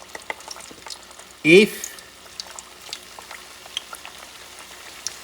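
Plantains lowered into preheated oil in a pan set to medium, breaking into a loud burst of sizzling that quickly settles into a quieter, steady frying crackle, with a voice briefly speaking.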